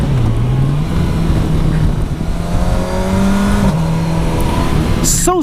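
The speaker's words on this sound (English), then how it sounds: "So smooth upshifting on the corner. Nothing happens. No clutch and just a clear upshift like this." A Kawasaki Versys 1000 SE GT motorcycle engine hums steadily and loudly while cornering downhill, its pitch climbing, then dropping cleanly at a clutchless upshift before rising again.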